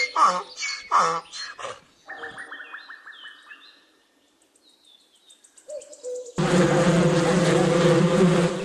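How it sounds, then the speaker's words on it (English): A wasp buzzes with a thin, wavering drone. It comes among other brief animal calls, followed by a burst of loud, dense noise. "wasp"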